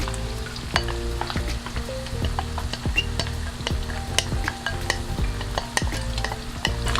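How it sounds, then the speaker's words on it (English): Onions sizzle in a pan for spaghetti bolognese, a steady close frying hiss broken by repeated scraping and stirring clinks, with no voices. "We're going to add the onions."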